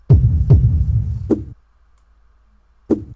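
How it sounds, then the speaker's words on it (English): Drum pattern from a pop ballad production in FL Studio, pairing an ambient stadium-style kick with a bongo-like side-of-drum percussion sample; several deep booming hits with sharp accents, then a pause before one more hit, with no voices. "Now for the drums, I have like an ambient kind of stadium kick."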